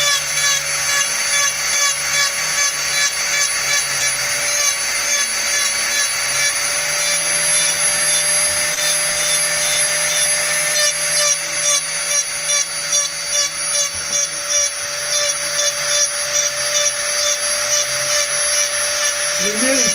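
A power tool carves a buffalo horn, giving a steady, continuous high-pitched grinding whine that lasts throughout at close range, with a faint low hum underneath.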